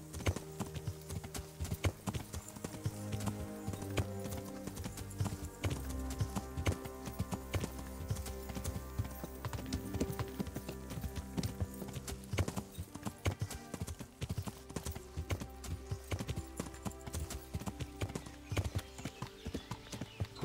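Steady clip-clop of horse hooves runs throughout over a dense, continuous soundtrack with music from the game Kingdom Come: Deliverance, occasionally joined by a brief whinny.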